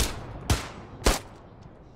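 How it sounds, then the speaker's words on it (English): Three sharp gunshots from the World War II shooter Hell Let Loose, fired at uneven intervals about half a second apart, loud and close with no talk over them. "I can't hear you over all the gunfire."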